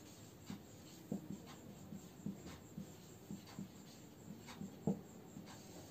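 Quiet chalk or marker strokes writing a headline on a board, short scratchy taps and scrapes in an irregular rhythm, faint and close with a hushed room behind.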